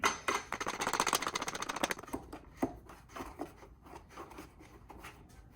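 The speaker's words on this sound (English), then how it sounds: "I take my 5-star knob and I screw it down onto the bolt and screw it all the way down until it's tight" A five-star knob is screwed down onto a bolt on a roof-mounted traction board rack on a Lexus GX. A quick run of close, ratcheting clicks and rubbing gives way to slower, scattered turns and scrapes.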